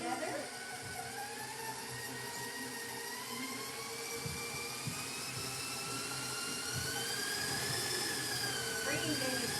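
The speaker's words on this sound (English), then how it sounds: "So here we go, we're creaming this together." Electric mixer creaming butter and sugar in a holiday baking class, a steady close whirring drone with rising and falling motor tones that runs throughout, with talk over it.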